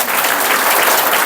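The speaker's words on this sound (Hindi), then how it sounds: "ताली बजाओ" An audience at a spiritual class claps together in a dense, loud, continuous burst of applause, even and sustained, with no talking over it.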